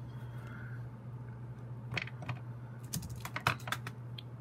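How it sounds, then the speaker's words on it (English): Jewellery wire trimmed with cutters, a few small close snips and clicks clustered over a couple of seconds above a steady low hum. "let's trim that wire off first"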